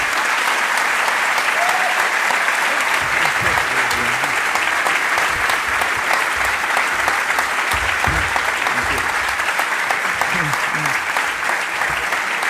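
Sustained applause from a lecture audience fills the hall for over twelve seconds, dense steady clapping with a few faint voices under it, heard after a talk by Slavoj Žižek on the freedom of a forced choice.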